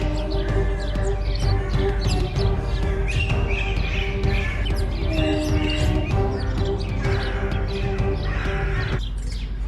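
Birds squabbling noisily outdoors in a park in Istanbul, with harsh overlapping caws and chirps in rapid bursts over a steady background hum, continuous and fairly close.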